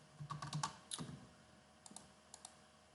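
Keystrokes on a computer keyboard as data is typed into a PHP web form: a quick burst of close clicks, then a few sparse, fainter taps in a quiet room.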